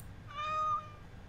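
A kitten in Dragon Age: Origins – Awakening gives one short, clear, high meow that rises and falls over a faint steady background hum.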